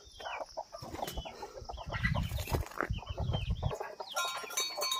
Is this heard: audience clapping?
no